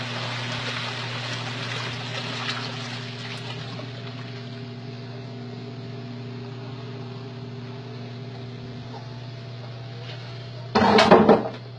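A twin-tub washing machine agitator churns homemade liquid soap with a constant motor hum and sloshing wash, steady throughout, ending in a brief louder clattering burst near the close.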